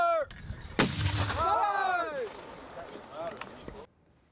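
Mortar fired on an army training range where 173rd Airborne Brigade soldiers train Estonian troops: one sharp, loud blast followed by rolling, echoing reverberation across open ground, with a shouted voice just before and faint talk afterward.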